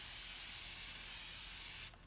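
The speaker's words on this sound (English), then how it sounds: "the mist is like it's not gonna stop until you let it go, like shh, like that." An aloe vera face mist spray gives one continuous, close, airy hiss held for about two seconds before cutting off abruptly.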